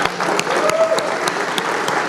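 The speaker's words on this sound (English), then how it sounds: "another big round of applause for Michael Bennett" Audience applause at a tech industry opening ceremony in Honolulu, a steady dense patter of many hands clapping in a room, loud and continuous throughout.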